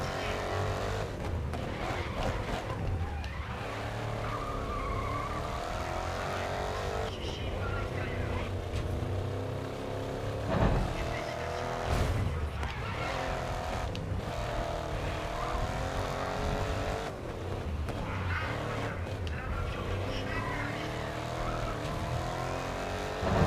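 Racing trucks thunder around a circuit in GRID Legends, their engines droning loudly with repeated gear shifts and revving swells, under steady talk from a player.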